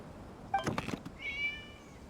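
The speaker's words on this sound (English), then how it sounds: "It was just a cat." A cat meows once in Genshin Impact, a short close meow followed by a drawn-out rising tonal cry against a quiet ambient background, with no talking.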